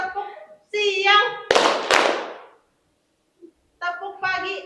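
Classroom hand-clapping concentration game with children: a few sharp bursts of claps between stretches of an adult voice calling out, with a short silent pause before the talking resumes.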